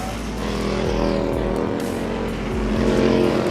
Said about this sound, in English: what a 620-pound motorcycle's doing at 180 miles an hour